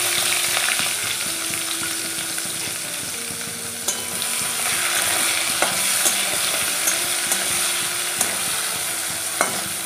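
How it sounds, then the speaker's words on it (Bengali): Chopped onion frying in hot oil with whole cumin seeds, a loud, continuous sizzle with occasional stirring taps and scrapes, close and steady for the full stretch. "পেঁয়াজটাকে খুব ভালো করে লাল করে ভেজে নেব"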